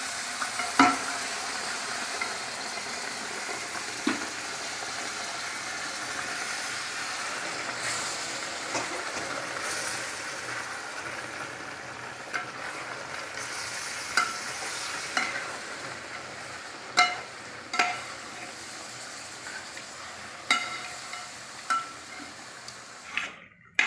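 Beef frying in a pan while being stirred nonstop, a steady sizzle overlaid with scraping spatula strokes that grow more distinct and rhythmic toward the end, close up with no voices.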